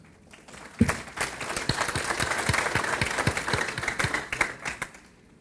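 Clapping from a seminar audience welcoming a guest speaker begins after a moment and builds into steady applause, a dense patter of many hands that carries on before tapering slightly.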